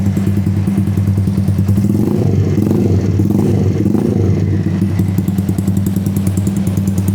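A modified Dayun 125cc motorcycle set up as a cafe racer idles with its exhaust running, a loud, close, steady low throb with rapid even pulses and some mechanical clatter.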